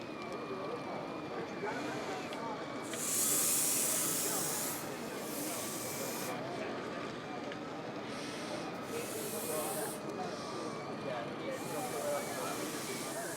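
A HIZERO Bionic Mop F803 cordless wet-dry hard floor cleaner runs with a steady, soft airy hiss and whir. Brief brighter swishes rise now and then.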